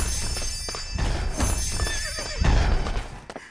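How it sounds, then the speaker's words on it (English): A horse neighs in the Lego Worlds video game, a loud whinny with a wavering pitch that rises and falls across a few seconds over a steady game background, with no talking. "And there's a horse."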